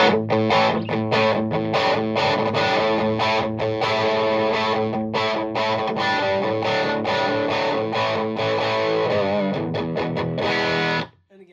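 Heavily distorted electric guitar chords through a Soldano Atomic 16 tube amp, preamp at 4, ring out loud and steady for about eleven seconds with a rhythmic strummed pattern, then stop abruptly.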